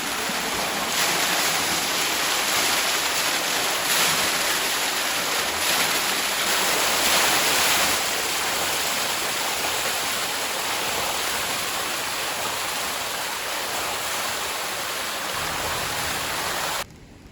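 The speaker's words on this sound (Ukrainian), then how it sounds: "Ого, а що це таке прямо так вода летить гарно" Steady, loud roar of rushing water cascading down beside a walking trail in Polyana, Transcarpathia, a dense continuous wash of sound with no voices over it.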